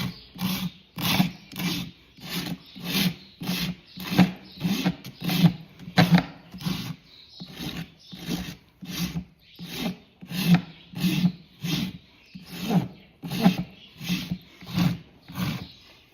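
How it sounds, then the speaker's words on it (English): A new rasp files old glue off a shoe heel in steady back-and-forth strokes, each one a rough, scraping rasp, repeated rhythmically around a dozen times up close with nothing else heard. "I got a new rasp, so I don't want to take too much off, so I'm going to be careful with that."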